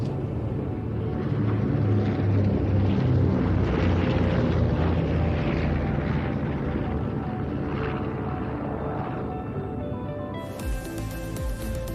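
Four warbird fighter aircraft fly a display routine at an airshow, giving a loud, continuous engine roar that swells and fades slightly as they pass, then thins out near the end.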